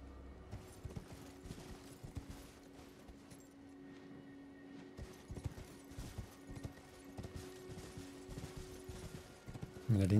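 Horse hooves clip-clop steadily in Elden Ring as a rider crosses a bridge, a rhythmic patter of hoofbeats running the whole time over a low droning game soundtrack, ending in a louder burst.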